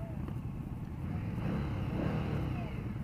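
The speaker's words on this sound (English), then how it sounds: "The exhaust is all right." A 2015 Indian Scout motorcycle engine hums and rises in pitch as it accelerates, a moderate, rumbling, fairly quiet exhaust note that stays close and steady.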